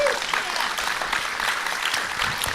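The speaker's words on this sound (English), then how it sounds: "I was afraid they weren't going to applaud." A live studio audience at a comedy podcast taping applauds in a steady, dense wash of clapping throughout, with a voice briefly heard at the start.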